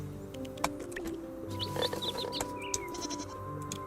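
Sheep on a farm in the Moonlight Peaks video game: short, high bleats come through a quiet bed of game music with small chirps and clicks, no talking.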